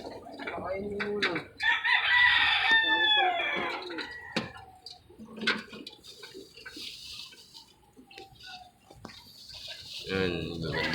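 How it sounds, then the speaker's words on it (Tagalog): Chickens clucking and a rooster crowing close by, with repeated bursts of calls over a quiet yard and a few faint voices in the background. "Dami yung manok dito"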